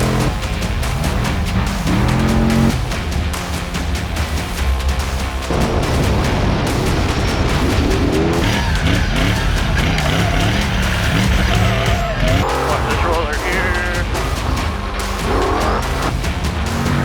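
A Camburg off-road racing truck driven hard at speed, its engine roaring loud and close with rising and falling revs through gear changes, plus bursts of tire noise and skidding.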